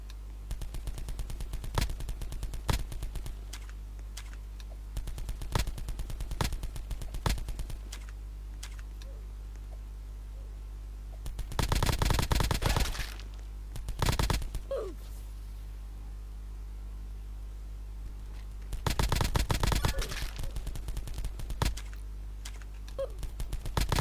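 Video game gunfire in clustered bursts of rapid, machine-gun-like shots, loud and close, separated by quieter stretches with keyboard clicks and a low steady hum, with no voices.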